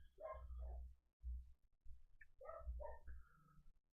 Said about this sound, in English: But my dogs are going mad here.